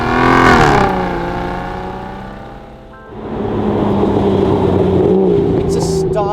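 Aston Martin DB9 (MY13) engine revving loudly up through a gear, dropping briefly on a shift and then surging again into a strong, close, sustained roar.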